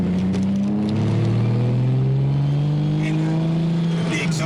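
Turbocharged BMW E36 328i four-door engine revving through a 3.5-inch exhaust, a loud, close, steady drone whose pitch climbs smoothly as it pulls, with a faint voice underneath.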